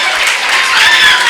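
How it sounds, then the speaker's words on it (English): Loud, steady applause from a large audience at an educational institution event as a guest is called to the stage, dense and sustained throughout. "Please give her a big round of applause."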